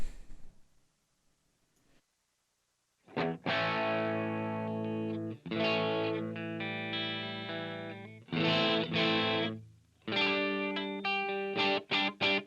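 Electric guitar played through a Line 6 Helix JCM/JVM amp model with mids and bass cut, ringing out distorted chords and sustained notes in several bursts after a short quiet opening.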